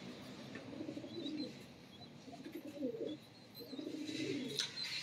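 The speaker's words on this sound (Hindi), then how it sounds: "राना अहमद कुकू साहब के दिए हुए कबूतर हैं ये सारे" Pigeons of a bred blood line cooing in soft repeated bursts, three low throaty coos in a quiet loft with faint background noise.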